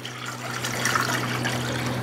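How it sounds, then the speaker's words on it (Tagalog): Tap water runs steadily into a shallow 36 cm casserole pot to boil penne pasta, a continuous close trickle and splash over a low hum, with no talking. "So, maglalagay tayo ng tubig."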